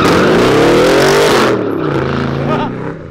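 A Chevrolet Camaro with a loud aftermarket exhaust revs hard, the deep roar climbing then dropping away into a lower rumble, very close and dominant.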